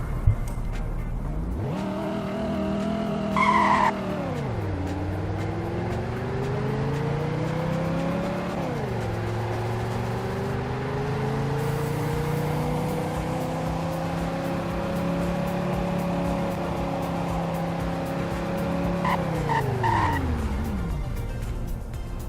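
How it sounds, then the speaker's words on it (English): Simulated car engine in the Roblox game Greenville, accelerating from standstill through several gear changes with rising, dropping tones, holding a steady high drone at speed, then falling away as it brakes to a stop, loud and alone. "And here is a 0 to 100 and braking test."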